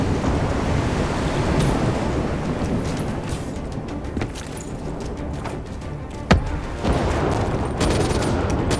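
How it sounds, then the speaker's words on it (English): Heavy superstorm waves crash in the Black Ops 3 campaign on PS5, a constant loud roar of surf and wind with a few sharp booms and cracks like gunfire breaking through. "Incoming superstorm too strong. These waves are gonna be a problem."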